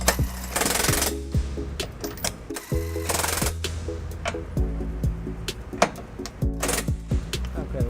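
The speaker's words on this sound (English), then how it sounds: "I'm going to take an electric DeWalt impact, and I'm going to use an 18mm socket with an extension here" Electric DeWalt impact wrench with an 18mm socket on an extension snugging trailer hitch bolts on a 2007 Toyota RAV4, loud close hammering bursts in several short repeated runs with pauses between.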